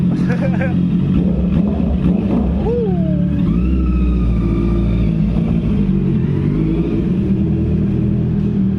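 A Honda CB650F fitted with a full aftermarket exhaust revs up repeatedly, its rising and falling engine pitch sweeping loud and close, while people talk throughout.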